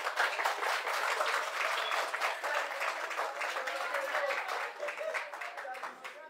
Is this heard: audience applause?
yes